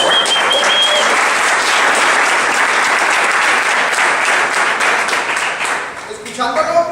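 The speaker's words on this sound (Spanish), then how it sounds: "vamos a darle un mejor aplauso a Wilfredo." A seminar audience breaks into sustained applause, a thick, even wash of many hands clapping at full strength that fades a little near the end, where a few tonal sounds cut in.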